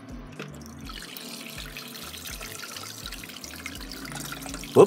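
Water keeps moving through an Arduino-built dog water bowl, making a steady close trickle and splash with soft rhythmic pump pulses underneath and a brief clunk at the end.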